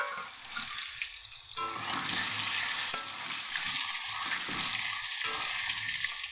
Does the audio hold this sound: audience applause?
no